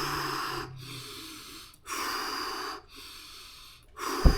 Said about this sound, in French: tu vas faire un système de respiration où tu vas respirer 6 fois